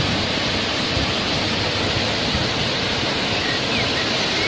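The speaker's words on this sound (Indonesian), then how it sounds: "Dan ini adalah air terjunnya" Roro Kuning waterfall rushing in a steady, dense roar that stays loud and unbroken throughout, with no voices over it.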